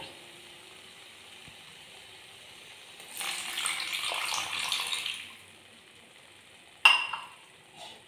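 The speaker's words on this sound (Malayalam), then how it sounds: "ഇനി നമുക്കിതിലേക്ക് കുറച്ച് വെള്ളം ആഡ് ചെയ്ത് കൊടുക്കാം." Water poured into a pan of cooking vegetables for pav bhaji, a brief rushing splash of a couple of seconds after quiet, followed by a sharp clink of utensil on the pan and a small second splash.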